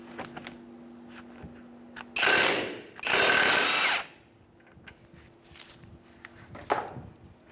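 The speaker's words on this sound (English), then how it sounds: "we're going to use a 36mm socket and take the axle nut off" A power tool spins a 36mm socket to remove the axle nut on a 2003-2011 Honda Element, two loud whirring bursts of about a second each, close by, with quieter clinks and shuffling before and after.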